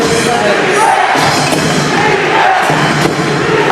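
A Pampanga home crowd at an NBL Finals Game 5 basketball game chants "defense" in a loud, dense roar that fills the arena and continues steadily throughout, with occasional thumps and bangs rising above it.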